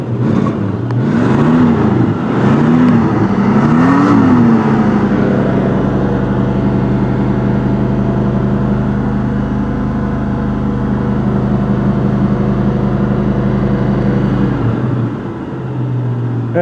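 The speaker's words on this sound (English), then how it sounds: "nice and strong engine" Classic car engine with original trim, started from cold, idling steadily and close by with a low, even hum, after a few brief revs at the start, then dropping off near the end.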